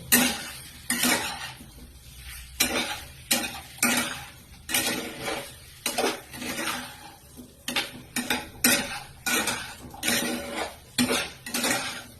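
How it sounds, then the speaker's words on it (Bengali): Boiled potatoes with coriander leaves being stirred and sautéed in a pan, a spoon knocking and scraping the pan in a steady rhythm of loud, close clinks with no talking. "উপর থেকে আমি অল্প অল্প ধনেপাতা ছড়াতে থাকছি আর আলুটা ভালোভাবে কষতে থাকছি"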